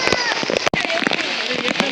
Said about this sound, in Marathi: पाऊस बघा काय तो जबरदस्त पाऊस आहे मित्रांनो